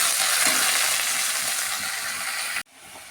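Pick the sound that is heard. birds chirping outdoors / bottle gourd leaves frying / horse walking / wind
bottle gourd leaves frying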